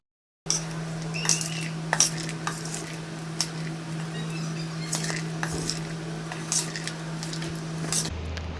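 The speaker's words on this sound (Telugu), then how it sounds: "మొత్తం ఈవెన్గా కలిసేలాగా కలుపుకోవాలి." A spoon stirring a munta masala puffed-rice mixture in a bowl, with scattered scraping clinks and rustling over a steady low hum.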